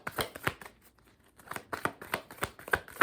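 Tarot cards are shuffled by hand in short, soft bursts of riffling and slapping, quiet and close, with a brief pause partway before several more quick shuffles.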